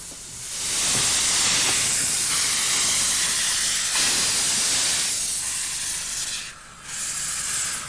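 A steam locomotive on the Welshpool & Llanfair Light Railway lets off a loud, continuous hiss of steam close by, broad and rushing throughout, with a short dip in intensity near the end before it surges again.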